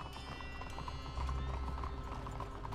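Horse hooves clip-clop in Red Dead Redemption 2, a steady rhythmic beat of a ridden horse close by, layered over game music and a low rumble, with no voices.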